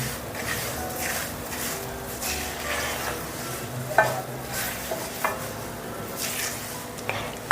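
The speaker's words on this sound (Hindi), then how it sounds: "इसे ऐसे ही और हमें भूनते रहना है ताकि ये जो सूजी है वो पूरा घी सेपरेट कर ले" Semolina roasting in ghee for suji halwa, stirred continuously in a pan: a steady close sizzle with scraping spoon strokes and a few light clinks against the metal, no voices.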